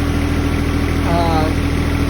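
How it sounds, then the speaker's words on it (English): A John Deere 1025R compact tractor engine idles steadily at close range with a constant low rumble and vibration, a faint whine rising briefly midway through. "So I got the tractor running."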